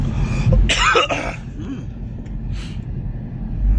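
A few harsh, breathy coughs burst out near the start, followed by quieter throat noises over a low rumbling background on a Cebu City street.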